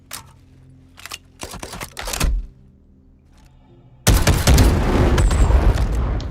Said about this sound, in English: We got that nice explosion.